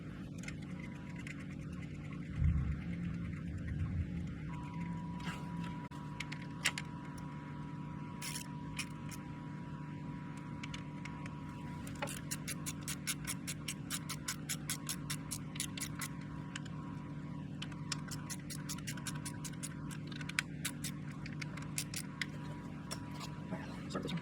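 Ratcheting and clicking of a torque wrench tightening bolts on a Can-Am X3 Turbo, rapid dense tick bursts repeating through a steady low workshop hum, with a few knocks and clunks near the start.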